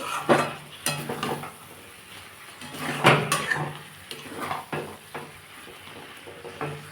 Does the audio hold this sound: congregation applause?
no